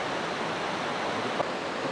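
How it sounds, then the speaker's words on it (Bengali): A waterfall on the Annapurna Base Camp trek in Nepal gives a steady, broad rushing roar of falling water, even and continuous with no other sounds. "আমার সামনে একটি ঝর্ণা দেখতে পেলাম"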